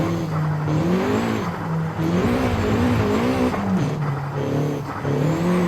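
A Honda Civic EP3 Type R accelerating hard, its engine note rising in steady harmonic sweeps that drop at a gear change near two seconds and climb again, loud and close throughout with no talk.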